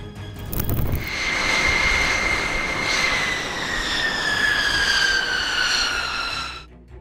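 A B-2 Spirit stealth bomber roars past in a loud, sustained jet rush whose whining tone slowly drops in pitch as it passes, fading out near the end.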